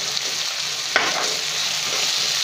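A dish of onion and ginger-garlic paste for prawn curry fries steadily in a pan, a continuous close sizzle, with a sharp stir or drop of tomato around the one-second mark.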